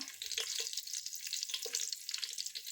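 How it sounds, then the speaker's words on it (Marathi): Green chilies and bay leaf fry in hot oil for egg biryani, giving a steady close sizzle with a few soft stirring scrapes through the pan. "हे चांगलं परतून घ्यायचं आहे ओली मिरची याच तेलामध्ये सगळं फ्राय करायचं आहे"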